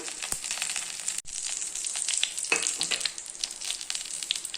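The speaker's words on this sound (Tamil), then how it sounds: "இப்போ கடுகு பொரிஞ்சிருச்சு" Mustard seeds spluttering in hot oil along with fenugreek and cumin for an elephant yam curry: a dense, close sizzle broken by sharp pops and crackles, with one brief dip near the start.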